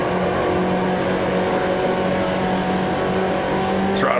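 Engine of a 1955 Formula One race car in the Grand Prix Legends racing game, a loud steady high-revving drone held throughout on the French Grand Prix circuit, with a brief rising whine at the very end.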